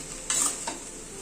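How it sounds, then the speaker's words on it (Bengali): A dish with coriander leaves and slit green chilies gets a brief stir in a pan: one or two short scraping strokes over a quiet steady hiss, close and soft, no voices. "এটা সব কিছুকে একবার একটু মিশিয়ে দিচ্ছি"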